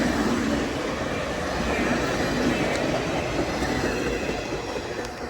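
Union Pacific Big Boy 4014 steam locomotive train rumbles past close by in Mentor, Ohio, a steady loud roar of wheels on rails with faint clacking and occasional squeals, no voices heard.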